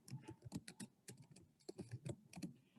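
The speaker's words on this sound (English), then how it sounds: "So I type in my title." Typing on a computer keyboard, a run of close, crisp key clicks in uneven bursts with short pauses, no voices.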